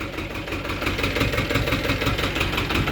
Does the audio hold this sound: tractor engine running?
yes